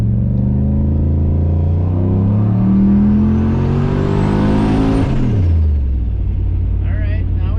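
A turbocharged car engine climbs in pitch as it revs under boost, holding loud and near for several seconds before the throttle lifts and the revs drop away with a brief hiss.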